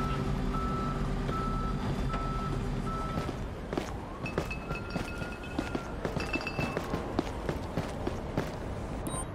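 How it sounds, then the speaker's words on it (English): In the video game Police Simulator: Patrol Officers, steady electronic reversing beeps repeat at an even pace from a tow truck, followed by scattered footsteps and clatter. "it was the tow truck that I heard"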